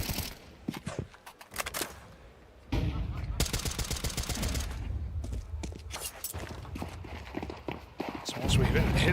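Pistol gunfire in Counter-Strike during a professional match between FURIA and G2 at the StarLadder Budapest Major: rapid, sharp shots in bursts under loud, continuous caster commentary and crowd noise.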